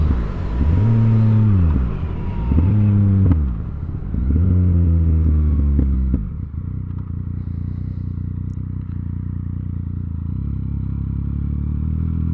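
A 2018 Yamaha MT-09 motorcycle engine while riding, loud and close, revving up and down through several rising and falling pulls before easing into a steady lower drone.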